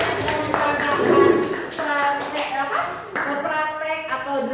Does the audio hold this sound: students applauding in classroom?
yes